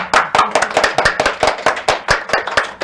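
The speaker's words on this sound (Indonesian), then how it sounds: "Tepuk tangan, tepuk tangan." Audience clapping at an Indonesian comedy talk show, a burst of sharp, fairly close handclaps in irregular quick rhythm that carries on steadily, loud and unbroken, with no talk over it.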